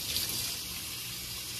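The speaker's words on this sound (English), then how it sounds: "So I do, when I wash, I use warm water." Warm water runs steadily from a tap while a bleached lace front wig is washed, a constant close gushing hiss with no pauses or talking.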